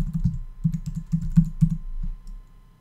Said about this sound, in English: you can just type a URL right here if you want